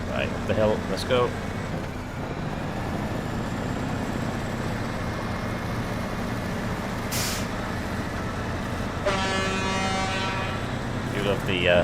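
A truck horn in the off-road driving game SnowRunner, set in Black River, Michigan. It gives a sustained loud blast late on, after a low engine drone, a hiss of air and a few shorter tones.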